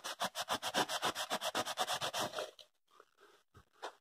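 A Scotch-Brite pad is worked back and forth inside an engine cylinder bore, producing about twenty fast, even scrubbing strokes. The strokes stop, leaving a few faint scuffs and a soft knock.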